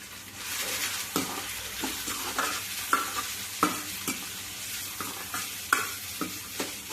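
Sliced onions with curry leaves, turmeric and salt stirred in a hot pan: continuous frying hiss broken by repeated scraping strokes of a spatula against metal, close and without speech.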